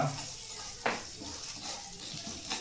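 Urad dal frying in a pan, a soft, steady sizzle with faint stirring scrapes throughout.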